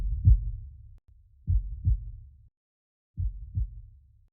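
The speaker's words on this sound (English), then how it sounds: "your heart began to beat" Three pairs of soft, low lub-dub heartbeats form a heartbeat sound effect in a hand-drawn animated story, evenly spaced with a pause after each pair.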